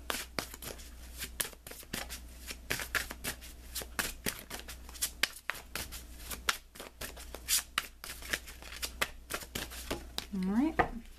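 Tarot cards riffle and snap in repeated quick shuffles, close and crisp, while a voice speaks softly underneath throughout.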